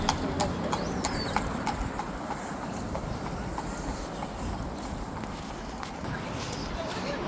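Horses on a Dublin street, their hooves clip-clopping in a steady walking rhythm at moderate distance amid city noise, with a person talking over it.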